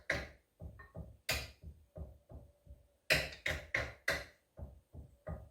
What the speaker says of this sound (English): This edge can bump that and make noise if that hits there.